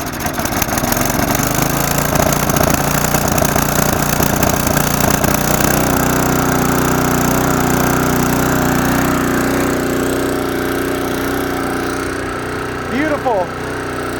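A Craftsman snow blower with a 5 hp Tecumseh Snow King engine and rebuilt carburetor runs loud and steady, easing slightly toward the end, where a voice briefly speaks.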